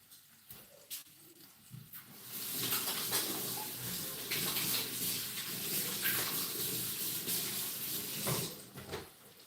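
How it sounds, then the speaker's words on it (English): Tap water runs steadily into a sink during handwashing, a broad continuous hiss lasting several seconds, preceded and ended by faint knocks and handling sounds. "Go wash my hands now."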